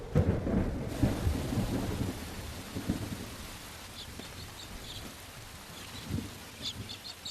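Deep rolling thunder rumbles over a steady wash of falling rain, loudest at the start, with faint bird chirps appearing later.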